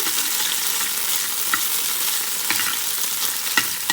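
Almond flakes roast in a pan with a steady soft sizzle and a light hiss, broken by a few faint clicks of stirring, close and without voices.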